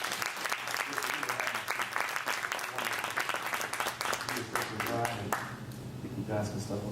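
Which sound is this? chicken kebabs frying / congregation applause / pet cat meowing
congregation applause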